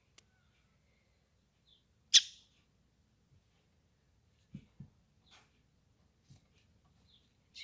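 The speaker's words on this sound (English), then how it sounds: "And it is calling to its mom right now. You can hear the chirping." An injured baby bird gives sparse, faint chirps and peeps with long quiet gaps between them. One sharper call stands out near the start.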